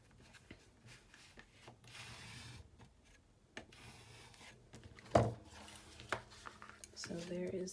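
One-inch tape is burnished down onto a paper folio with soft, intermittent rubbing and scraping strokes, faint and close, with a sharper tap near the end.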